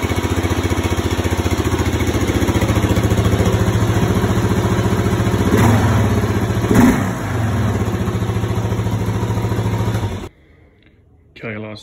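Kawasaki KLR 650 third-generation motorcycle fitted with a Delkevic 350mm oval exhaust with the baffle in, idling steadily and loudly up close with a couple of brief throttle blips, then cutting to near silence at the end.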